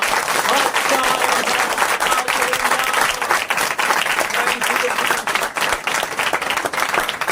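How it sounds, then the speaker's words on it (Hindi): A church congregation at a Palm Sunday service bursts into loud, sustained applause, a thick continuous roar of many clapping hands close by, steady throughout with voices faintly mixed in. "खुदावंद यीशु के जलाल के लिए जोरदार तालियां।"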